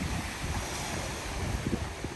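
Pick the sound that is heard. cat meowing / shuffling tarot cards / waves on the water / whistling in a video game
waves on the water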